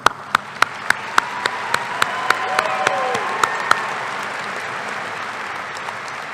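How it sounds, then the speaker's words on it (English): At a Tennessee Tech University spring commencement, a few sharp, separate claps ring out close by while a broader wash of crowd applause builds and lingers, with a faint voice briefly over it. "Dr. Earhart, yeah, you can clap for that"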